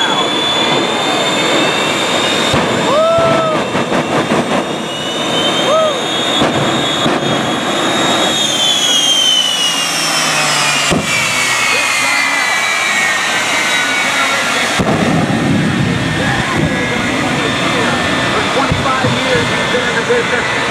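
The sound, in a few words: jet engine truck with afterburner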